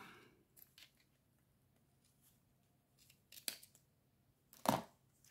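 Scissors snipping through a folded paper card, a few sparse close cuts separated by quiet pauses, the last cut the loudest.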